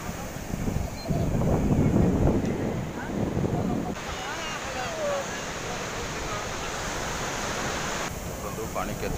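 Sea waves rolling onto the shore, a steady broad wash of surf with wind buffeting the microphone, louder rumbling early on, then an even hiss.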